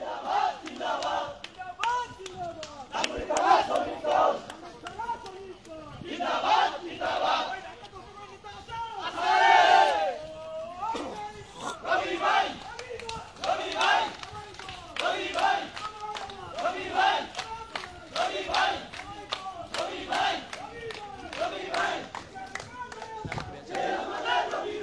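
Crowd of BNP-allied activists marching through Dhanmondi, chanting rhythmic slogans against the Awami League in repeated bursts, loud and close, with shouting voices rising and falling over constant crowd noise.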